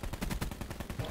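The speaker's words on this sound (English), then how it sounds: "No, that was me shooting." Rapid gunfire from a player's weapon in a Call of Duty Blackout match on Alcatraz, a continuous burst of evenly spaced, close, loud shots.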